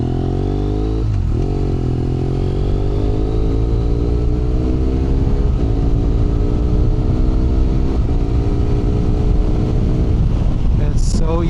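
A BMW F800R motorcycle fitted with a HealTech QuickShifter cruises steadily on a road, its engine droning loud and close with a slowly rising pitch over about twelve seconds, with a brief dip and constant wind rush against the microphone.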